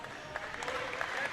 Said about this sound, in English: Joy Smith will get a big hand from this crowd